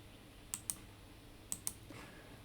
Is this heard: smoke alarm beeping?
no